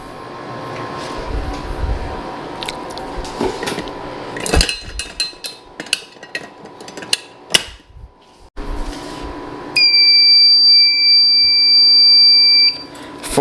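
Fire alarm system under test: clattering mechanical clanks and bangs at first, then a loud, continuous high-pitched electronic tone that holds steady for a few seconds before cutting off.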